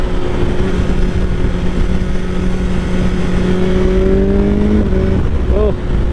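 A 2021 BMW S1000R motorcycle engine held around 4,000 RPM, a loud continuous drone with steady tonal hum and slight pitch shifts near the end, heard close with wind rush.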